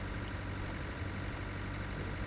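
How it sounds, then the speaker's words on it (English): Tractor engine in Pure Farming 2018 running in a steady low drone, the revs dipping slightly under cruise control while ploughing, continuous and fairly loud with no voices. "I suppose it's just the engine revs dip down a bit"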